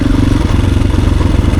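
An enduro motorcycle on a dirt trail, its engine held at a steady, loud rumbling drone close by with a faint clatter running through it, no voices present.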